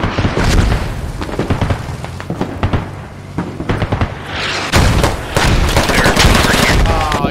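Gunfire and explosions in the military shooter game Squad: dense rapid bursts of automatic fire and heavy booms, loud and continuous, with voices talking over the battle.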